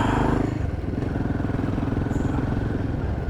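A motorcycle engine drones steadily with a rhythmic throb while riding on a road across frozen Dal Lake in Kashmir, loud and close, with wind rumble and no talking.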